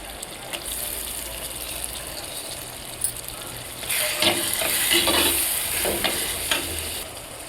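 Onion and garlic sizzle in a pan while tempering fish curry, with a steady crackling hiss that grows louder midway, punctuated by stirring scrapes and clinks.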